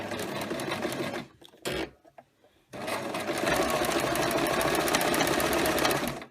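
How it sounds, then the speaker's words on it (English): Sewing machine with a presser foot stitching knit fabric gently around a corner, a loud steady mechanical whir that stops briefly and then runs again in a continuous even rhythm. "a piece of knit fabric, which we're just going to sew gently around the corner so you can see this in motion"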